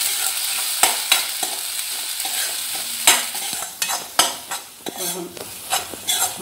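Spices roasting in a pan for tomato sambar, a constant sizzle punctuated by sharp scraping and clinking of a spoon, stirring growing busier toward the end.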